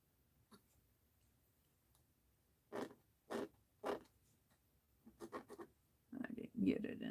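Soft pencil scratching on art journal paper, with several short bursts of strokes at close range, then rustling handling noise near the end.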